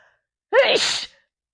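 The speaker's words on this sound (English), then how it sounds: "I'm going to sneeze" A single sharp human sneeze, close and loud, bursting out after silence and fading within half a second.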